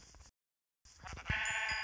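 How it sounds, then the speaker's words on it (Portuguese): Sheep bleating in a survival video game: a short, faint bleat, then a brief dropout, then a louder, sustained bleat near the end. "Ovelha, volta aqui, ovelha."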